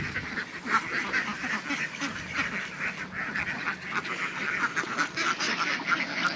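Domestic egg-laying ducks on a duck farm, a busy flock quacking continuously in overlapping calls, near and moderately loud.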